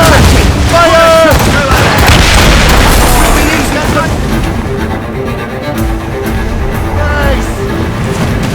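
Ship cannons in Assassin's Creed Rogue boom in a loud, heavy volley, deep blasts overlapping into a rumbling barrage while voices shout over the gunfire.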